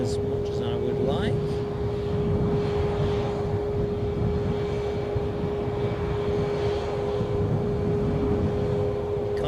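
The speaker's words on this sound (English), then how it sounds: "British Airways with their inbound 320 from Heathrow" A British Airways Airbus A320 inbound from Heathrow arrives at Edinburgh airport, its engines a steady, broad roar with a sustained tonal whine throughout, and a voice talking faintly over it.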